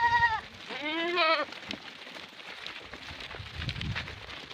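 Goats in a roadside herd in hilly country give two close, loud wavering bleats in the first second and a half, followed by quieter rustling and faint background noise.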